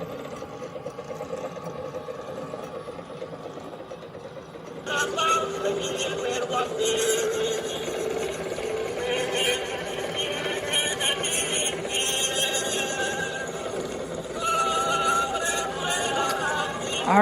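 A Columbia Graphophone Model BC or BM phonograph runs on its large 6-inch mandrel, its mostly encased gears giving a steady low mechanical whir and clatter that grows busier partway through, under someone talking.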